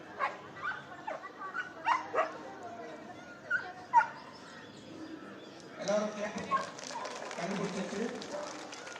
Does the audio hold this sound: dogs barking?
yes